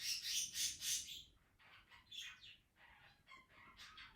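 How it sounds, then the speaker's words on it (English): Birds circle a drink outdoors, calling with bright repeated chirps and tweets that come loudest in a rapid burst at the start, then continue in scattered, softer calls nearby. "The birds are circling my drink."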